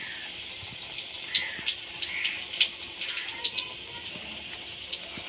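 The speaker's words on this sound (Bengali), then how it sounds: "গরম তেলের উপর দিয়ে দিলাম দিয়ে ফ্রাই করছি" Shami kabab patties deep-frying in hot oil give a steady, close hiss with scattered pops and crackles rising above it, no voices.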